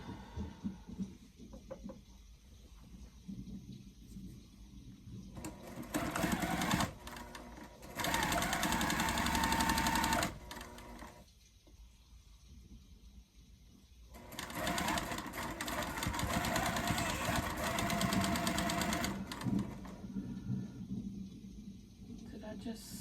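A sewing machine stitches a mini quilt wall hanging, running in loud sustained bursts of fast rhythmic whirring separated by quieter pauses with soft handling noises.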